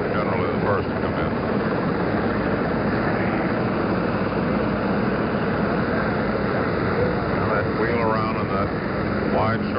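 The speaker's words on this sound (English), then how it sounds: "This will probably be the photo chopper coming in." A photo helicopter approaches during the Apollo 11 splashdown recovery at sea, its rotor and engine drone a steady rumble heard over a narrow broadcast line beneath ongoing talk.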